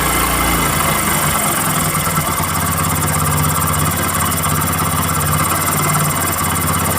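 Vehicle engine idling loudly and steadily at close range, a continuous mechanical drone that settles slightly lower early on as the idle speed is turned down.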